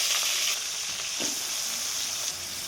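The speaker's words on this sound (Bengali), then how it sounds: "তেলটা ভালো করে গরম করে কিছু আলু আমি ভালো করে ছুলে কেটে ধুয়ে নিয়েছি এখন সেই আলুগুলো দিয়ে দিচ্ছি" Peeled, cut and washed potatoes frying in hot oil, a steady loud sizzle filling the whole stretch with a faint stir or scrape near the middle; no talking.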